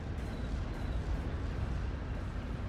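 Artillery shells exploding in the World War II strategy game Steel Division 44, a dense, continuous rumble of booms and blasts at steady loudness with no pauses.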